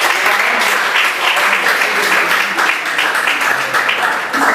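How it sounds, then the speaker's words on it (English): Audience at a student debate competition on smartphones and academic performance breaks into steady, dense applause after a group's score is read out, sustained and fairly loud throughout with no pauses. "A round of applause."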